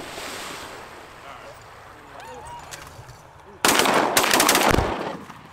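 Shotgun blasts ring out over a small cattle pond during a goose and black duck hunt, a loud sudden volley of several shots following a quiet stretch of wind and water.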